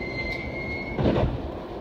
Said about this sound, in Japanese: The emergency brakes have been applied.